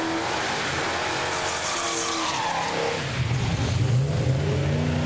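A drag racing car makes its run at a Big Block Ford drag event, with a loud engine roaring, revving and squealing its tires as it pulls away from the nearby lane.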